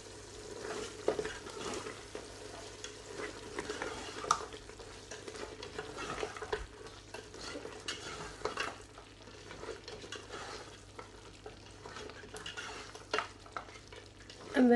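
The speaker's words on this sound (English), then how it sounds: "And half a teaspoon of jeera powder, and then just stir that in." Lamb karahi frying in a pan as garam masala and cumin powder are stirred in, a soft continuous sizzle with scraping and light utensil clinks, quiet and without speech.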